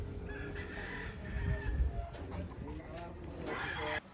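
Gamefowl roosters, stags and bulls, crow and cluck at a large cockfighting-bird event in Luzon, several birds overlapping against a busy crowd background where people talk.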